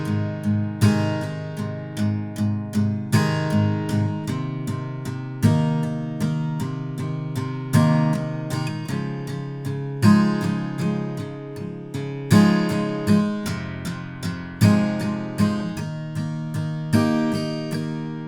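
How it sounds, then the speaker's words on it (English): Acoustic guitar strums the chord progression of a song in a steady rhythmic pattern, each strum ringing out clearly and close, chords changing every couple of seconds, played alone without voices. "So we'll apply that strumming pattern to the chord progression and we'll sound like this."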